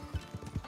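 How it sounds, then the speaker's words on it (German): Three brief, soft hoofbeats from a horse in a video game clop out in a quick, even rhythm, close and moderately loud, with no talking. "Gut, dann nehme ich mein Pferd."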